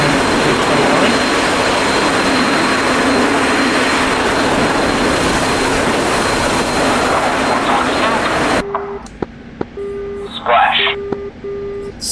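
A video-game East German MiG-29 jet engine roars in a loud, steady rush for about eight seconds, then cuts to a quiet cockpit with short electronic beeps.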